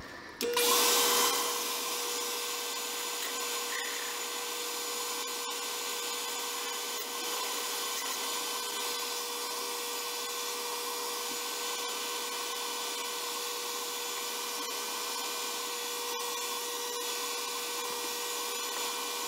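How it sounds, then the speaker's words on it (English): A drill bores through maple wood on a lathe, running continuously with a steady high-pitched whine and grinding hiss, close and loud, starting abruptly after a brief moment and holding constant throughout. "now we'll just drill it"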